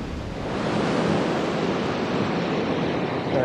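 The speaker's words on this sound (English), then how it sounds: "All right, we're coming up to the river crossing." A river flows at a trail crossing under a footbridge in Rocky Mountain National Park, a steady broad rushing wash, fairly loud and constant, with some wind buffeting the microphone and no talk.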